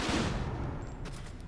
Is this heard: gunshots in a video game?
yes